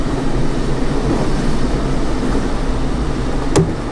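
Steady rumble and rattle of a JR East Keiyo Line electric train running on track in a train simulator game, continuous and close, with a short sharp clack near the end.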